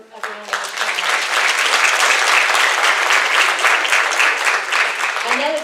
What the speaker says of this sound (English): Please give her one more round of applause.